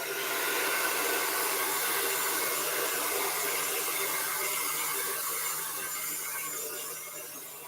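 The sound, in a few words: blow dryer drying paint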